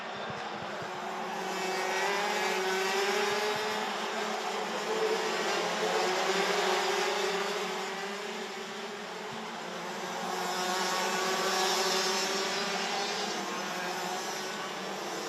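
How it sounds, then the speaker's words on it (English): Racing karts at the Karting Genk circuit, a high buzzing whine of several engines rising and fading twice as the pack passes by, with no talk over it. "Tom Bracken got through at one of the sweet overtaking spots he seems to favour around the circuit here at Karting Genk"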